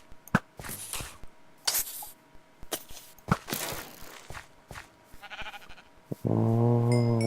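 Sheep bleat in a medieval village video game, with short scattered bleats among footsteps and light game effects, followed by a sustained tonal game sound at the end.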